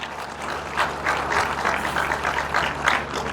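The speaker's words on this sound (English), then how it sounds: "You can clap better." An audience at a university inaugural lecture claps in a steady, moderately loud wash of applause that swells in small waves throughout.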